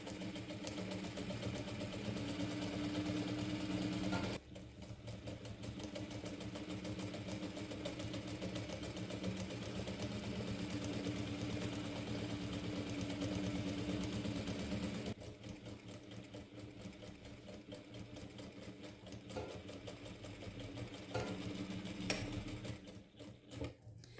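Domestic sewing machine stitching a bandana bib, a steady close mechanical whir running continuously with brief pauses and changes in speed.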